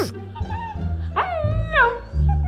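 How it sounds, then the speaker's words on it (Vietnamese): A Shiba Inu dog whines and yips in short, rising cries, with a person talking over it. "Bé chó Shiba Inu Chopper này đã quá nổi tiếng"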